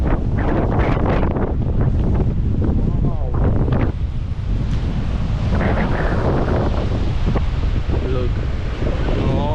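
Steady wind buffeting the microphone with ocean surf at Broken Beach on Nusa Penida, Bali, a loud continuous roar throughout, with a voice speaking over it.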